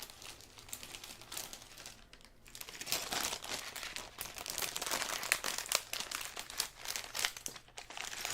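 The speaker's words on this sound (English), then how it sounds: "Crinkle sounds, heads up." A plastic bag of Lego parts crinkles up close in a quiet room, in continuous rustling bursts that grow busier and louder partway through.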